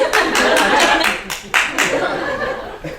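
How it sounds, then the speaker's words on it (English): A single person demonstrates an extended high clap as a mock ovation, a run of sharp, evenly spaced hand claps close to the listener, with laughter and chuckling mixed in. "Next level up would be the angular ovation, like extended high clap"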